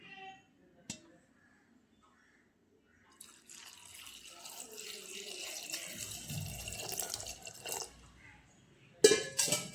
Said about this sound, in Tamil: மோர் எடுத்து வச்சுருந்தேன், மோர் ஊற்றிடுவோம்.